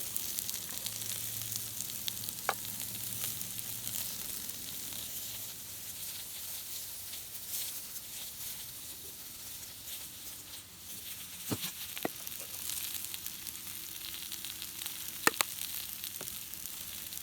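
Squash slices sizzle and fry in a pan over a campfire, a steady soft crackling hiss with occasional sharper pops, fairly close and without talk.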